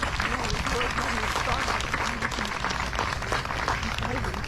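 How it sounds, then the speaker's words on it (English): An audience at a NAMIWalks Silicon Valley charity event applauds, a dense, steady wash of clapping that holds throughout with voices mixed in. "I just want to give Jim another round of applause if we can."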